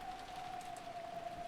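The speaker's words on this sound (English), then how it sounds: "Even the quiet sound of the rain was distracting." Quiet, steady rain hisses in the background of a mystery visual-novel game scene, with a thin, sustained tonal hum running under it and no speech.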